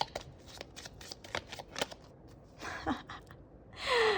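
Tarot cards shuffled by hand during a pick-a-card reading, a quick run of crisp riffling flicks close to the listener, followed by a softer sliding swish at the end.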